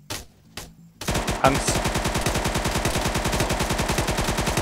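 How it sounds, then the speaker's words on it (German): Sustained automatic gunfire in an Arma 3 urban map battle, a rapid even stream of loud close shots after a few scattered opening bursts, with a brief voice near the start. "Da, ich schieß da schon drauf."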